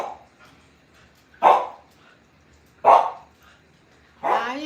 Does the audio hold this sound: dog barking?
yes